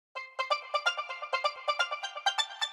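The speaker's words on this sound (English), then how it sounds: "a steel drum sounding instrument" A bright, bell-like synthesized steel drum from a Nexus preset plays a quick melodic run of repeated plucked notes, clear and close, with no voices.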